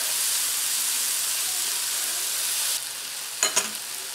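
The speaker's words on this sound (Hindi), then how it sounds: "इसको अच्छी तरह से मिक्स कर दें। अब हम इसको उतनी देर तक पकाएंगे जितनी देर तक हमने टमाटर डाला है" Tomato masala sizzles and fries steadily in a pan for several seconds, then drops quieter, followed by a couple of brief clinks of stirring against the pan.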